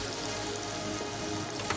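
Dried red chillies fry in hot oil with a steady, close sizzle and faint crackle, continuous through the short moment without any speech.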